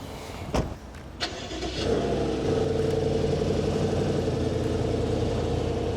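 A 530-horsepower BMW M850i Gran Coupe starts up after a few clicks and knocks, then runs at a steady, fairly quiet, muted hum as it is driven out, heard close with no talk.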